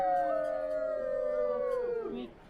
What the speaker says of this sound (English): Are you trying to start a howl?